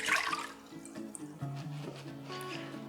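Water pours into a bowl of dry cocoa cake mixture for a vegan chocolate mud cake, a short splashing gush at first followed by quieter liquid trickles and clinks, faint and close.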